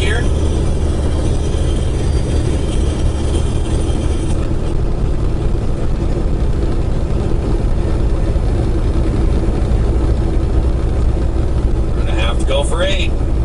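Heavy semi truck engine drones steadily after shifting into ninth gear on a long-haul run, a continuous low rumble with cab noise and a brief rattle near the end.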